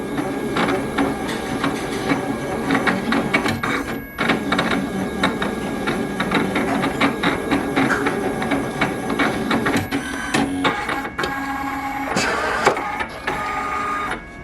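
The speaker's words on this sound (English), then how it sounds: "So it's now going to cut the laminated stickers." Uninet iColor 250 machine cutting laminated stickers, a steady mechanical whir and rhythmic clatter of the cutting head moving back and forth, close and continuous for the whole stretch, with shifting tones near the end.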